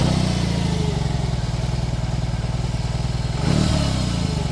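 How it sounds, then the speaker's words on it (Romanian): A BMW R18 Transcontinental motorcycle's engine idles close by with a loud, steady, throbbing low pulse, rising briefly in a short rev partway through. "dacă dăm ok o să auzim motorul acesta în toată splendoarea lui"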